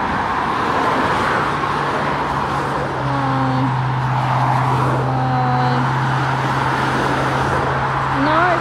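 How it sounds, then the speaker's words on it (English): A car drives past on a road, a steady broadband roadway rush with a low engine hum that swells slightly toward the end, while a person speaks briefly over it. "Nice car."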